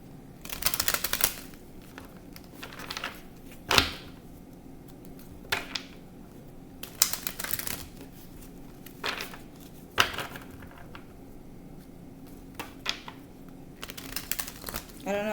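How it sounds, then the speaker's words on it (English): Tarot cards are shuffled by hand, producing a series of quick, crisp riffling and snapping bursts separated by quieter gaps, close to the listener and fairly faint overall. "I'm going to shuffle again."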